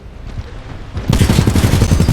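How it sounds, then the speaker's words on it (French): A loud burst of rapid gunfire in Titanfall 2 kicks in halfway through, dense and sustained, following a quieter stretch of low rumbling game ambience. "Coup de feu."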